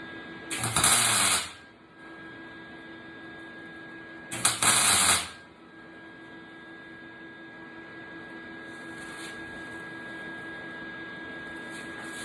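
MIG-style welding on patch panels in the body of a 1969 Ford Bronco: two loud, harsh crackling bursts of about a second each, a few seconds apart, followed by a steady lower machine hum.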